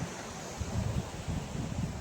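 Sea waves wash against the shore with gusting wind, a low churning rumble under steady broadband wind noise.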